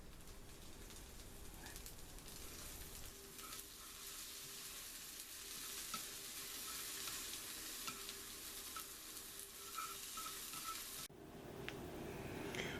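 Scrambled eggs mixed with brains frying in a pan, a continuous soft sizzle with scraping stirring strokes throughout, fairly quiet and steady, with no talking.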